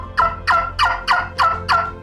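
A trumpet-style turkey call blown to imitate turkey sounds during a spring turkey hunt, six loud, close, evenly spaced bursts in a steady rhythm with short gaps between them and no talking.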